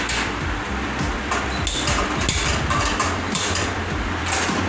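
A cake tin for a homemade cake gets rapped against a kitchen counter in a run of quick, close metallic knocks, one after another with no pause.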